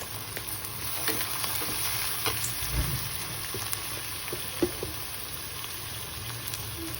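Garlic, tomato, turmeric and peas fry in a pan with a steady, close, even sizzle and occasional soft stirring clinks, with no talk.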